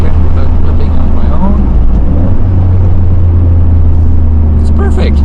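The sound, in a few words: Toyota GR Corolla engine rev-matching on downshift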